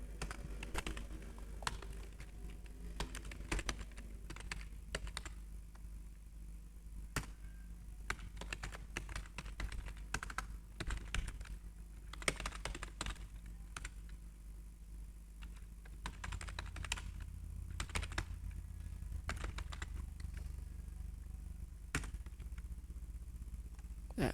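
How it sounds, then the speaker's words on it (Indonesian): Someone types steadily on a computer keyboard, with close, dry key clicks in quick irregular bursts over a low constant hum. "Ketik"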